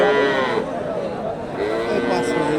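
A Friesian cow lowing amid a noisy crowd of people talking at a Bangladeshi cattle market, with other livestock sounds mixed into the busy din.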